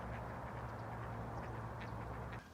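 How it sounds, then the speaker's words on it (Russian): Fighting ducks quack repeatedly in an agitated, overlapping chorus, fairly faint, over a steady low hum that stops near the end. "Ну как утки разодрались, это вообще..."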